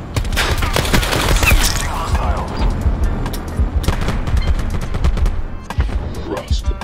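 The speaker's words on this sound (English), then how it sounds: "Who the fuck dares shoot at me?" Rapid gunfire in Call of Duty: Black Ops 4 multiplayer, dense bursts of automatic and single shots crackling loud and close almost without pause, with some muffled speech mixed in.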